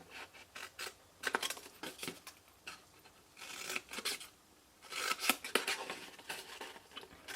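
Crisp snipping and rasping cuts from scissors, in irregular bursts with short pauses, close by with no talking.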